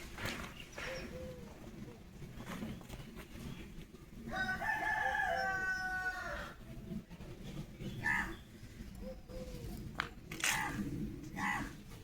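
A rooster at a neighbour's house gives one clear, drawn-out crow at moderate distance in the middle, with quieter clucks and soft outdoor background noise around it.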